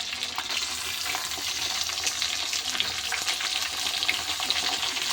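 Chicken meat hitting onions already fried red in a pan for a desi chicken curry, giving a steady, close, loud sizzle with scattered crackling pops throughout and no talk.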